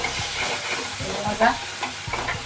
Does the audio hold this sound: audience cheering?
no